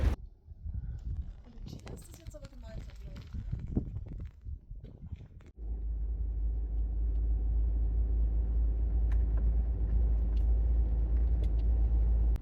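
A van on a South American overland trip, near the Bolivia–Chile border in the Atacama region, drives along a road with a steady, loud engine and road rumble that starts abruptly partway through, preceded by scattered handling noises.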